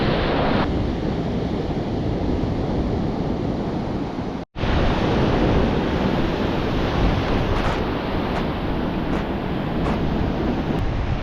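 Ocean surf crashes and rolls steadily onto a flat beach with no gutters, a loud continuous roar mixed with wind buffeting the microphone, broken by one brief cut partway through.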